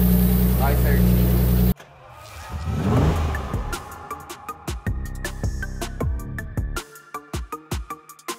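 A turbocharged BMW E36 engine running warm, heard after a loud burst at the start as an uneven idle with sharp pops and blips, close by, with people talking over it.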